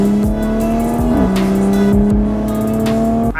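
A Porsche 911 GT3 pulls away with a loud, close, sustained engine drone that briefly dips as it shifts gear, then climbs steadily again.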